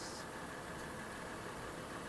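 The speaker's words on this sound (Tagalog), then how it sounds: "dapat nakaandar itong makina kapag nag-check kayo mga kaibigan ha" A car engine idles steadily throughout with an automatic transmission being checked for oil, giving a continuous, even mechanical hum and broadband rumble with no talking.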